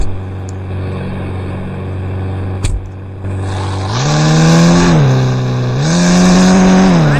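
A vehicle engine runs steadily at first, then revs up loudly, dips and climbs again in a second strong rev, all close by with no voices.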